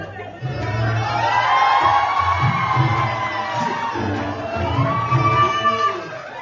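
College fest audience cheering and shouting for a performer, a loud, continuous crowd roar with whoops and children's shouts, swelling and dipping but never stopping.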